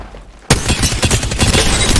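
Gunfire in the online battle game Apex Legends: after a brief quiet start, a sudden dense burst of rapid shots and impacts erupts and keeps crackling loudly to the end.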